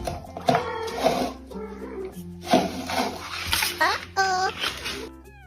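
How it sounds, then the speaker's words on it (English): Kitten meowing in a series of short, high, wavering cries close by, mixed with light rustling and handling noises. "The loud meows make it very clear that teamwork is definitely not an option today."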